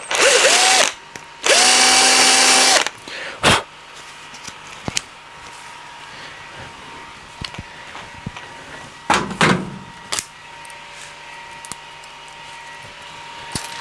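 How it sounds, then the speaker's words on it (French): Power drill boring a hole in the body of an RC buggy: two short loud high-pitched whirring bursts early, followed by scattered clicks, taps and handling knocks, with a few brief mechanical rattles later and no talking. "C'est pour ça qu'il faut faire d'abord un petit trou, ou au moins un marquage pour le forer"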